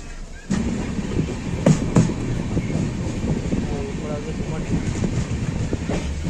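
The Jammu Tawi Express runs along the rails, a continuous rumbling roar with periodic clatter and a couple of sharper knocks, heard from inside a coach throughout.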